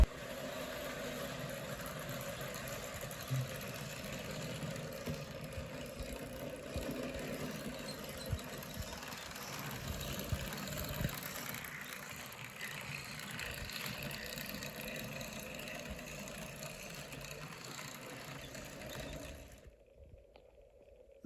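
Steady, low mechanical hum and whir of a Kato GP7 HO model locomotive running on pulse power, with a constant buzzing drone and faint clicks, holding even for about twenty seconds before cutting off abruptly.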